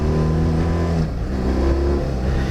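An adventure motorcycle in first gear churns through sand on Utah's Burr Trail, its engine held at a loud, steady, close drone with a brief dip before pulling on again.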